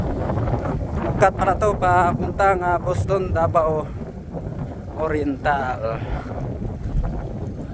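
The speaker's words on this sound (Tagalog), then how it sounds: "napakalakas talaga ng hangin dito" Strong wind buffets the microphone with a steady low roar on a steep mountain road from Diwalwal, Monkayo to Boston, Davao Oriental, while someone talks over it throughout.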